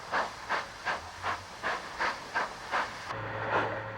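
Great Northern P2 steam locomotive 2522, built in 1923, lets out rhythmic bursts of steam, about eight even hissing chuffs, followed by a continuous hiss and low rumble.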